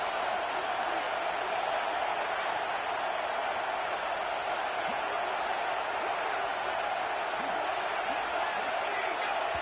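Football stadium crowd roaring on fourth and goal from the one, a loud, steady wall of broadband noise held without a break from start to finish.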